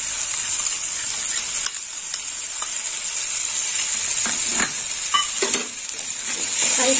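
Spice paste mixed with ground coriander leaves sizzles and fries in a pan for a Bengali dahi begun dish, a steady loud hiss broken by a few scraping stirs.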